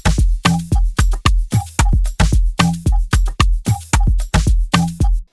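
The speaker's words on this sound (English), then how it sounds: "This is the second snare." A snare drum sample sits inside a looping Afrobeat drum pattern, sharp hits repeating in a bouncy, steady groove alongside punchy low kicks, loud and upfront with no voices.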